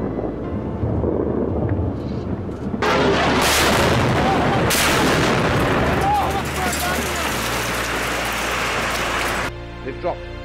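Large, heavy explosions boom and rumble loudly in sequence, with broadband blasts and long roaring tails; people talk over the din.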